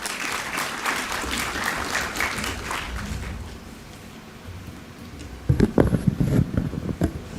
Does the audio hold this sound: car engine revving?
no